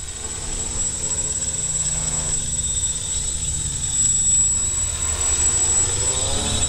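An X650 quadcopter drone hovers in a garden, giving a steady, loud whirring drone of its motors and propellers with a high whine on top, close and continuous throughout.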